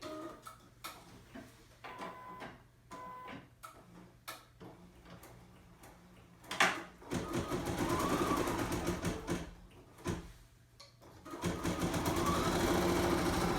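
A domestic embroidery machine stitches the third colour of an appliqué design, a rapid steady mechanical ticking and whirring that starts softly and grows louder and denser partway through, with brief pauses and no talking.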